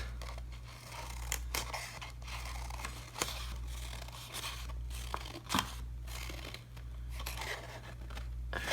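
Scissors snip paper for a leaf weaving, producing a series of close, quiet cuts and crisp paper rustles over a steady low hum, with one sharper crunch partway through.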